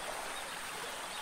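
In The Isle, a dinosaur drinks water with a soft, continuous trickling and lapping that stays steady and close for the whole short moment, with no voices.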